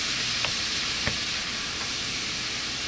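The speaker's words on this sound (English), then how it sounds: "Go ahead and saute this up." Ingredients sauteing in a pan for snow goose wild rice stoup, a steady close sizzle and hiss with a couple of faint stirring clicks, no talking.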